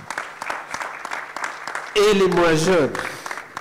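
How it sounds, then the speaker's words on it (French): An audience applauds at a conference session on circularity and decarbonisation, with a short burst of clapping mixed with a speaker's voice, after scattered sparse claps beneath the talk. "On applaudit les jeunes."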